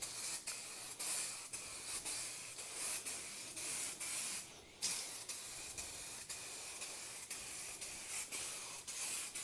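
Clear coat hisses from an aerosol can onto a Pontiac Solstice headlight, a continuous steady spray with one brief pause midway, heard close and alone.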